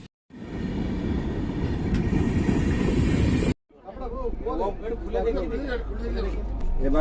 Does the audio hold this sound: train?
yes